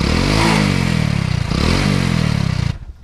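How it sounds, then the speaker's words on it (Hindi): A Hero Splendor motorcycle engine runs close by with a rough, rattling, buzzing tone, rising slightly in pitch twice as if briefly revved, then cutting off abruptly near the end. "आप इस मोटर बाइक की आवाज़ को सुन सकते हो वहाँ थोड़ा।"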